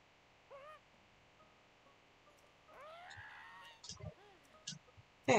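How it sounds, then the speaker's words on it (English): A bird call from the Tears of the Kingdom video game: a few short rising chirps, then a louder warbling burst of whistled notes, close and clear over faint game ambience, ending in sharp clicks. "Bird."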